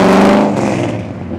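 A Chrysler 440 Six Pack V8 engine roars and revs loudly up close, a deep throaty growl with rising harmonic whine that gradually settles.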